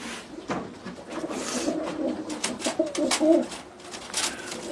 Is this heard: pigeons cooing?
yes